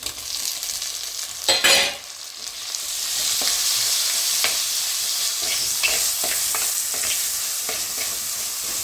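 Tomatoes go into a pan of frying fish curry, and one brief clatter of stirring gives way to a steady close sizzle and crackle that holds for several seconds.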